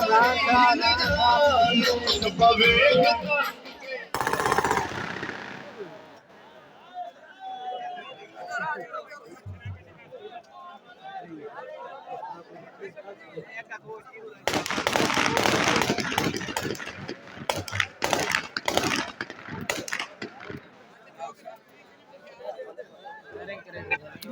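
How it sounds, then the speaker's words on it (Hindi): Firecrackers and celebratory gunfire fired into the air at an outdoor celebration: dense bursts of sharp, crackling pops come in loud clusters at the start and again midway, with voices and an idling engine between. "हवाई फायरिंग भी काफ़ी हो रही है तो पटाखे भी काफ़ी बजाए जा रहे हैं इस टाइम"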